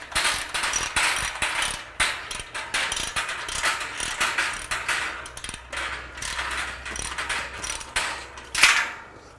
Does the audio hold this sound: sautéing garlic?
no